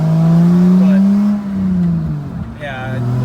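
A Lexus car running on a newly swapped engine, revving with a rising and falling tone up close while a person talks over it.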